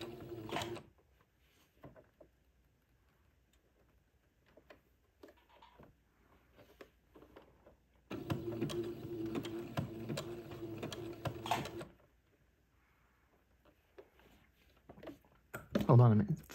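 Sewing machine stitching lace onto entredeux: a steady whirring run of about four seconds, close, bracketed by shorter mechanical bursts, with quiet gaps and faint clicks between.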